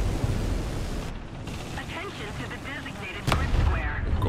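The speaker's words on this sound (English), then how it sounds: "God, artillery. Get out of the way." Artillery fire in War Thunder during a heavy tank battle, deep rumbling blasts over constant engine noise, with a sharp loud impact near the end and someone talking over it.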